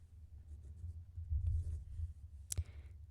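A pen scratches faintly on paper while working a Class 10 arithmetic progression maths problem. Soft, close, irregular strokes continue quietly, with one sharp click near the end.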